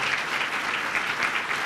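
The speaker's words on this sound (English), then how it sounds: "Give yourselves a round of applause" Brief, dense burst of audience clapping at Governor Hochul's Dunkirk, New York announcement of a $10M award, loud and even throughout its short span.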